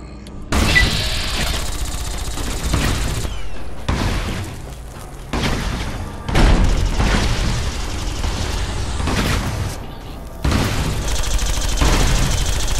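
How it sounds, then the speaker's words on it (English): Dynamite blasts and gunfire clatter against hardened sentry bots in Fallout: New Vegas, with repeated loud booming bursts and rattling shots separated by brief lulls across the stretch. "Throwing more dynamite at robots. Hardened sentry bots."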